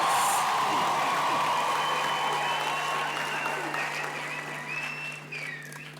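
Sustained applause from a graduation ceremony audience, loud at first and gradually thinning over six seconds, with a steady low hum beneath and a few faint voices.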